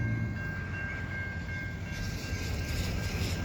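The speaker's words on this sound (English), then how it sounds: "And there's a train coming in," An EXO MR90 electric commuter train pulls into Deux Montagnes station, the last stop on the line, arriving fast with a steady low rumble and rail noise, heard from the platform at moderate distance with no talk.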